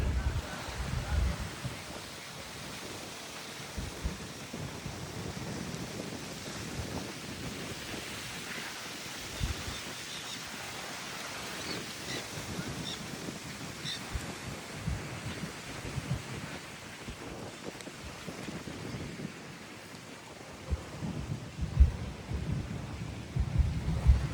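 Gusty wind from a cold-front thunderstorm outflow boundary near Tampa Bay, St. Petersburg, blustering against the microphone as a broad steady roar with low rumbling buffets, loudest near the end.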